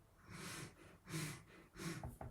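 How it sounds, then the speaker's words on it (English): Three sharp nasal inhalations in close succession, each a breathy hiss with a noisy rush of air through the nose, close and fairly quiet, followed by a couple of small clicks. "Then there's the one where I inhale through my nose, like this."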